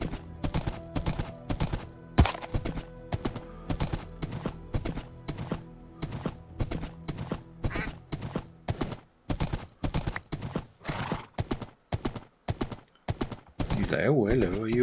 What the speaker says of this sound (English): oh hello, are you a real horse?